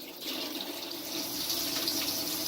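Tap water runs steadily into a sink while mackerel is rinsed before being braised, a continuous broadband hiss with no talking over it.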